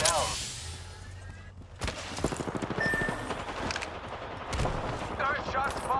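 Gunfire in a battle royale video game: rapid shots crackle in bursts, some loud and close and some trailing off, under intermittent talking.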